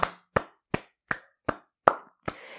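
A single pair of hands claps seven times at a slow, even pace. Each clap is crisp and close with silence between, and the last one rings on a little longer.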